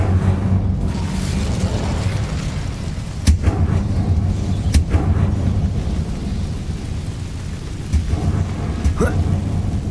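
Spell effects from the video game Hogwarts Legacy as the Incendio fire spell is cast: a dense, rumbling whoosh of magic fills the scene, broken by a few sharp bursts, with no talking.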